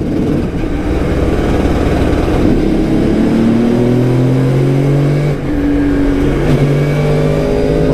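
A Formula 4 race car screams around a circuit, its engine heard loud and close from onboard as it revs up repeatedly through the gears in rising sweeps, with no voices.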